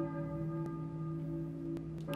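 A church bell rings in the video game Silent Hill, a sustained resonant tolling hum with overlapping tones, steady and moderately loud with no talk.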